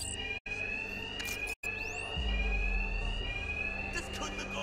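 A continuous high electronic alarm rings in a Batman Arkham Knight side mission, loud and steady with two brief cutouts, while a deep rumble and game sounds rise beneath it partway through.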